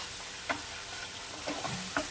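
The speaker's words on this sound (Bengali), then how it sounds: "এবার মশলাটাকে আমি খুব ভালো করে কষাবো।" Spices mixed with sour curd fry in a pan for a Bengali magur fish rasa, a soft steady sizzle broken by a few sharp spatula clicks against the pan.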